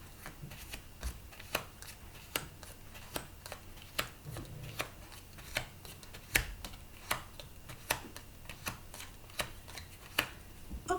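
Tarot cards being cut and shuffled: a steady run of sharp, crisp card snaps and riffles, about one per second, close up and fairly quiet, with no talking.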